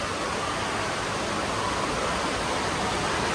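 Water rushes steadily down a children's water slide, a loud, even broadband hiss of flowing water with no breaks or voices.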